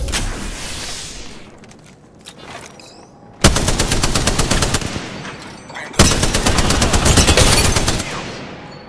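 Automatic gunfire in Apex Legends, a dense, rapid burst loud and close, a pause, then a second long sustained volley, with quieter scattered shots and game noise before the first burst.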